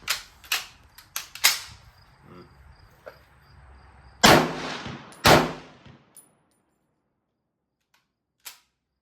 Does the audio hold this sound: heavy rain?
no